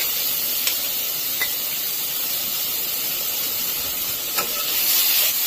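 Garlic and ginger sizzle and hiss steadily in a hot pan with shrimp, broccoli and carrot sauce in progress, a dense close frying wash broken by a few soft stirring scrapes.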